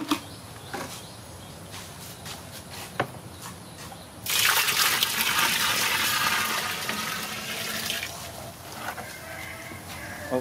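Water poured into cow dung and mixed to soften it for biogas, a loud continuous splashing gush that starts abruptly after a few quiet seconds and carries on steadily to the end.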